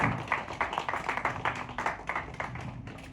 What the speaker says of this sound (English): Exciting round of applause.